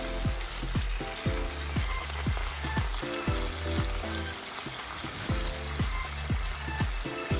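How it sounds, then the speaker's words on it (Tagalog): Honey garlic chicken sauce bubbles in a pan, a dense sizzling crackle with repeated low popping bursts from the boil, continuous and close. "Kumulo."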